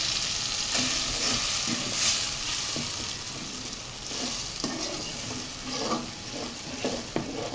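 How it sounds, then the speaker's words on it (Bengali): Green chillies, cumin paste, chilli, turmeric and spice powders stirred and sautéing in a hot pan for a Bengali fish and gourd-shrimp dish, with a steady close sizzle and repeated scraping stirs throughout, no talk. "একসাথে সবগুলো দিয়ে এই মরিচগুলো কষাতে কষাচ্ছি"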